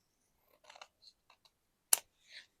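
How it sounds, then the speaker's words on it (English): Scissors trim the edge of a handmade paper shaker card in a few quick, close snips, with a sharper final cut, faint and isolated in an otherwise quiet room. "So I'm going to just trim this one off."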